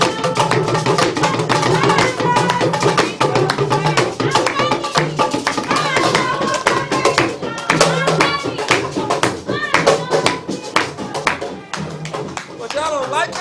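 A Yoruba traditional group plays talking drums with hand clapping at a welcome performance, dense rhythmic percussion and claps running steadily throughout, loud and close, with voices mixed in.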